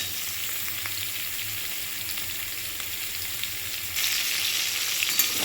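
Cauliflower and soybean chunks fry together in hot oil with a steady, close hiss that grows louder and brighter partway through, with no talk.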